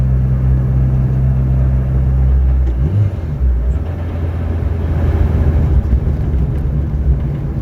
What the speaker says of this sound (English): I've almost forgotten what it's like to drive a Saxo.